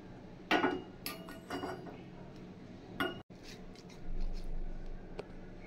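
Fried egg pieces being mixed in a bowl with mashed potato, sharp utensil clinks and scrapes against the bowl at irregular intervals, with soft handling sounds between.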